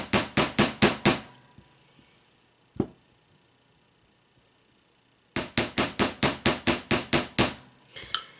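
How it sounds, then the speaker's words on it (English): Sharp metal hammer blows on a rivet joining two jewelry pieces, a fast burst of about six strikes, a lone tap, then a longer steady run of about ten strikes, close and loud in a quiet room. "and then hammer again."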